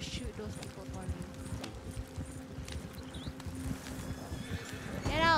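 Horse hooves clip-clop in a quick, even rhythm in Red Dead Redemption 2, with a horse whinnying near the end and a person talking over the hoofbeats.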